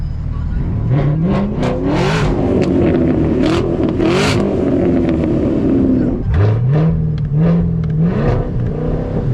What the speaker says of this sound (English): I'm talking about revving.